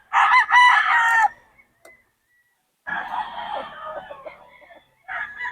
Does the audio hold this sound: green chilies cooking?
no